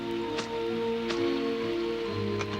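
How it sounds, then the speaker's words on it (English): Steady rain falls through the afternoon, a soft, even hiss of drops on surfaces under a faint background hum, with a few louder splatters scattered through it. "It had been raining since lunchtime"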